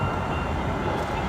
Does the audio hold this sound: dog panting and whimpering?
no